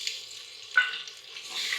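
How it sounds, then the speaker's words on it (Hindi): Onion, garlic and ginger paste fries in a clay pot, giving a soft, steady sizzle with a brief louder hiss midway and no talking. "ये प्याज और लहसुन अदरक का पेस्ट भून चुका है।"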